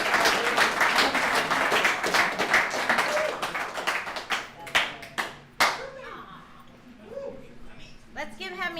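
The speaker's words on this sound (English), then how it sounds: "Let's give Hamid another round of applause" Applause from a small audience at a recovery services alumni meeting, a flurry of claps that thins out into scattered individual claps, with voices talking near the end.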